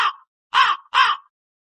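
Crow cawing sound effect in a read-aloud children's story: three loud, harsh caws alone, the first cut short, then two evenly spaced calls.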